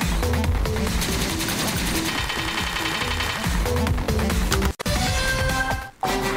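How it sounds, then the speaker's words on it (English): Cannons firing in the video game Epic Battle Fantasy 5, a dense rapid barrage of loud booms over game music, with two brief drop-outs near the end. "Lots and lots of cannons."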